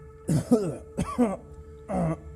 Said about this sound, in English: My father gave a little hoarse chuckle, followed by a cough or two.